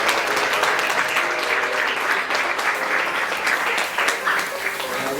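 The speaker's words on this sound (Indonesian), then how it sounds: "kita beri aplaus kepada Bapak Margono" An audience of schoolchildren and adults on a study visit to the DKI Jakarta provincial council building gives Bapak Margono sustained applause, a dense, even clapping texture with faint voices mixed in throughout.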